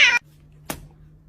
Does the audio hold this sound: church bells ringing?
no